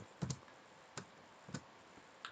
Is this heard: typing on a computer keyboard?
yes